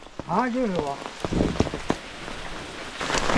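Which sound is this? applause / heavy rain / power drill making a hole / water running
heavy rain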